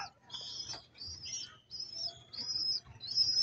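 Pigeons kept for racing chirp and tweet in short high bursts repeated about every second, close and clear against a quiet background.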